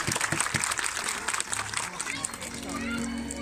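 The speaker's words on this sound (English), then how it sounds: "So please do get involved with big rounds of applause." Zoo crowd at a sea lion show clapping and cheering, loud and dense at close range, with children's voices and chatter mixed into the applause.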